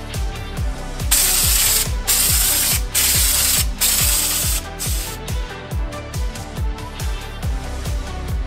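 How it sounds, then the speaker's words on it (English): A trigger sprayer squirts soapy water onto the seams of a mini jet boat, rapid repeated pumping clicks with several longer hissing bursts of spray, close and loud, no voices. "I'm gonna spray the seams like that and use soapy water"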